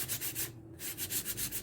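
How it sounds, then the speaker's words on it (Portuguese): Hand sanding an MDF box for decoupage with sandpaper, heard as steady, close back-and-forth rubbing strokes in a regular rhythm with a brief pause midway, no talking. "Vai lixando e passando o dedo"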